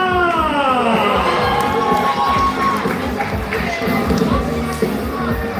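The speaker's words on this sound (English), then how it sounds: "one huge round of applause for the EKKA!" A large crowd at the EKKA show in Brisbane cheers and claps loudly and continuously before a Dagwood Dog eating contest, with shouts rising over sustained applause throughout.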